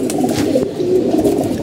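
Female pigeons coo steadily and close by in a home loft, low overlapping burbling calls running without a break.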